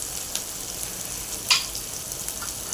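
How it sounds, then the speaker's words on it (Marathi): Red chilli, turmeric and salt masala sautéing in oil with ground paste, a steady close hiss of frying with a few soft stirring scrapes, one slightly louder stir in the middle. "मसाले परतून घेऊया"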